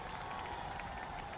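Rally crowd in Nawada, Bihar claps for Narendra Modi in a brief, continuous burst of dense applause and crowd noise that stays even from start to finish.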